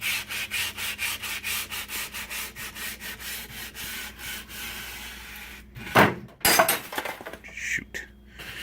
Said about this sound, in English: my sanding block, cleaning up the rails